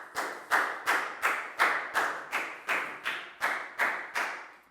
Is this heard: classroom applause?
yes